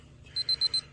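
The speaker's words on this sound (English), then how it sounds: "That's the sound of my little alarm going off." A kitchen cooking thermometer's temperature alarm on wood-smoked pulled pork, set to 148 degrees, gives four short, evenly spaced high-pitched beeps. They sound clear and close over a quiet background.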